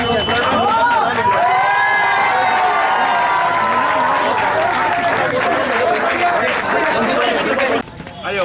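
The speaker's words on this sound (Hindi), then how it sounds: "तालियां नहीं रुकनी चाहिए भाई।" Audience applause and cheering fill a football final prize ceremony in Sujangarh, a dense crowd roar with chatter and whistles carrying steadily throughout, amplified speech riding over it, before dropping off near the end.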